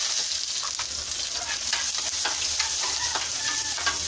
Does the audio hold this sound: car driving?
no